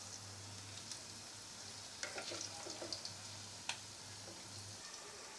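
Saag pakoras made with mixed leafy greens fry in hot oil, a steady soft sizzle running throughout with a few sharper crackles and pops near the middle.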